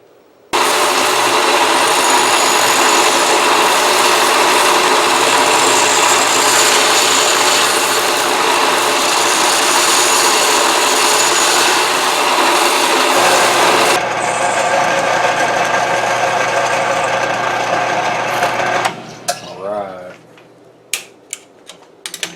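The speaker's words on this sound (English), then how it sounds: "I'm going to grind that excessive off and smooth it out" Belt grinder roaring steadily as it shapes and smooths excess Micarta handle material on a Cold Steel Jungle Machete; a loud, continuous abrasive rasp runs for most of the clip, then cuts off, leaving a few scattered clicks and knocks.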